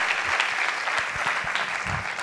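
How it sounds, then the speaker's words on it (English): A conference audience at an Ayurveda event in Pune claps for a speaker, giving dense, steady applause from a room full of hands that continues evenly for a couple of seconds. "I request everyone to please have a big round of applause for sir."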